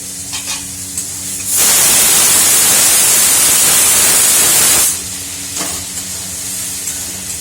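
Spice paste frying in a pan with a splash of water added, bursting into a loud, harsh spattering hiss for several seconds before dropping back to a quieter sizzle, no voices.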